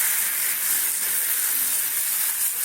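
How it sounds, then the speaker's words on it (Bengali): Masala paste frying in a pan while cooking a rohu fish dish, giving a steady, close, broadband sizzle with a hissing, even texture and no talking. "মশলাটাকে একটু ভাজা ভাজা করে নিতে হবে সুন্দর করে চলো একটু ভাজি"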